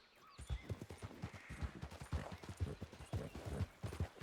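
Horse hooves clip-clop in a steady riding rhythm on the trail to Blackwater in Red Dead, fairly close and moderately loud, with a faint background bed and no talking over them.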